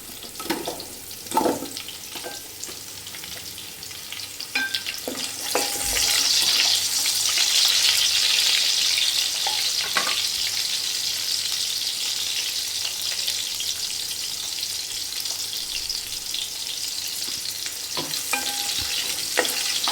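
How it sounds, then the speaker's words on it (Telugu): Chopped onions for a flat bean pulao fry in a pan with a steady, bright sizzle that swells after about five seconds and carries on evenly, with occasional stirring clinks, close and without talk. "ఇప్పుడు నెక్స్ట్ ఉల్లిపాయ ముక్కలు అయితే వేసేసుకుందాం"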